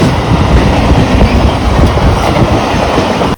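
A Ratnagiri to Vasai passenger train moves along the track with a close, loud, continuous rumble and clatter of wagons that cuts off abruptly at the end.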